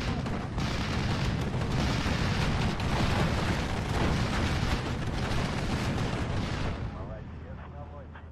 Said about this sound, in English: let's just strafe these. We've got a bunch of IL-2s in the area. They can strafe away.